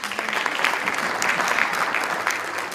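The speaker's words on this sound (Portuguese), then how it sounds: "E eu agora gostava que dessem uma salva de palmas à audiência por estar aqui." An audience at a Passivhaus building conference in Portugal claps steadily and densely, a full room of applause held at an even, loud level throughout without letting up.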